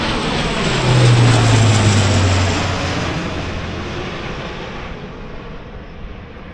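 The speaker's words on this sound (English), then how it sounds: "That's low. That's a Hercules." A Hercules military transport plane passes low overhead near Lake Bala, a loud droning roar that swells and then slowly fades as it moves away, with no talking.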